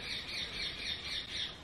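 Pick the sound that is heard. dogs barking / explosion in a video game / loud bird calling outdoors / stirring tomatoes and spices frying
loud bird calling outdoors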